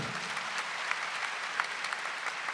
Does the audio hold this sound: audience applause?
yes